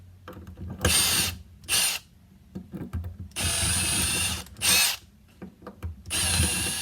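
A power drill with a larger bit bores into parts of a Bosch 4100 jobsite table saw, close and loud in several separate bursts of varying length with short quiet gaps between them and no talking.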